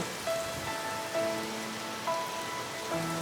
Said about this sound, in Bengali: কি পরিমাণে বৃষ্টি, অনেক বৃষ্টি পড়তেছে